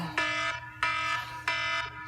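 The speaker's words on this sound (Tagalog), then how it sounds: "tingog ng alarm." A loud electronic alarm sounds at 3 AM in three long, evenly spaced bursts, each a harsh, buzzing tone with rich overtones and brief gaps between, close and alone.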